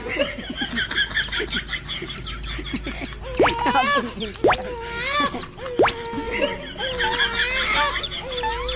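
Two pet chicks peep in high, rising chirps that repeat through the clip, loud and close, with people talking and background noise under them.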